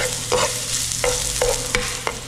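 Flaked tilapia and ginger sautéing in a pan, a steady sizzle broken by four sharp scraping stirs of a utensil, with no voices.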